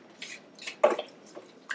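Photographic color negative film rinsed by hand in hot water, the black carbon backing coming off: soft close splashes, drips and wet squishing in short irregular bursts.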